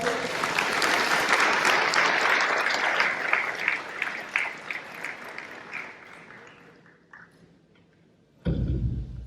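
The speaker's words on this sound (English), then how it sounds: "give a huge round of applause" A crowd applauds loudly and steadily, the clapping thinning into scattered claps before a brief loud burst returns at the end.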